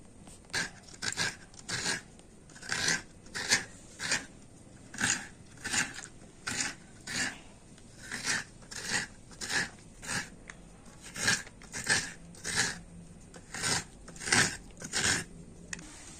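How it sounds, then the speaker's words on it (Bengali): Half a coconut being grated by hand, a steady run of crisp, crunchy scraping strokes repeating at an even rhythm, close and alone, with no talk. "তো এই নারকেলটা প্রথম আমি কুড়ে নেবো"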